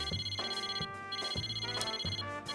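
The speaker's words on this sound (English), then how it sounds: "My cell phone rings again." A cell phone rings in the video game Persona 4 Arena, with a repeating electronic ringtone pattern cycling about every 0.6 seconds over steady background music, with no voices.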